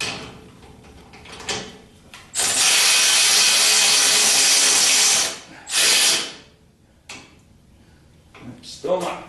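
A bench wire wheel cleans up bolt threads with a loud, steady grinding hiss lasting about three seconds, then a shorter burst, set among workshop clatter and quieter handling noise.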